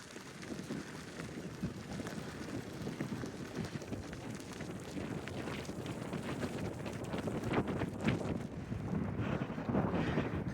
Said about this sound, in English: This headwind is not super strong, but strong enough that I feel like I'm not making much progress